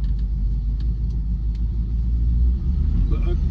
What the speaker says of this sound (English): But a genuine V8 is a lovely thing. Just the way it sounds and how smooth it is.